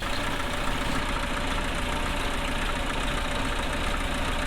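A Willys Jeep L-134 engine idles cold after starting, a steady, dense mechanical rumble with a faint knocking texture and no voices.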